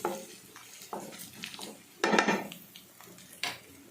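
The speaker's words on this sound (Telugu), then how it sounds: "ఇప్పుడు క్యారెట్ వేసేస్తున్నాను. వేసేసి ఒకసారి కలిపేసి" Grated carrot going into a pan and being stirred while egg rice is cooked, heard as a run of close clinks and scrapes of a utensil against cookware with a louder clatter in the middle and no talk.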